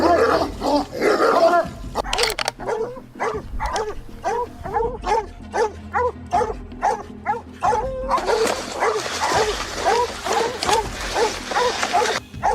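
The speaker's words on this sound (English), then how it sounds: "Amid echoing dog barks," Hunting dogs bay and bark at wild boar in rough brush, a steady run of rhythmic, echoing barks and yips close by, with brief whimpers between them and denser overlapping barking toward the end.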